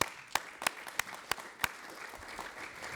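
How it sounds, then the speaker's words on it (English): Applause for the CEO at a sister cities signing ceremony, heard as a handful of distinct, well-spaced loud claps over a soft background of lighter clapping that fades toward the end. "Another round of applause to our CEO."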